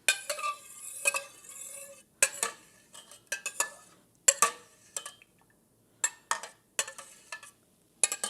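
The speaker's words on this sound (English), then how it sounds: "Mix in the lye solution." Oat milk soap batter being stirred after lye solution is added, heard as repeated scraping, clinking strokes of a utensil against a container in short bursts with brief pauses, fairly close and alone.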